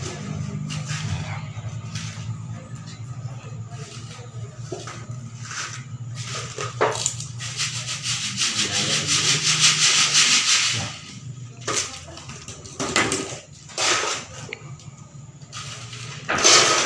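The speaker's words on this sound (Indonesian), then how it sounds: "tujuan disaring atau diayak pasir ini kita mengambil pasir yang halus" Sand for making cement flower pots is sieved through a sifter, giving a rough scraping, rustling shake in repeated bursts with a longer, louder stretch of grainy hiss midway.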